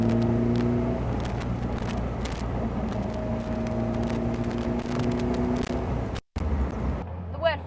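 A Caterham 360S SV sports car with sport suspension on the move: a steady, close engine drone with sustained humming tones and road noise, with a voice speaking over it. A brief dropout comes near the end.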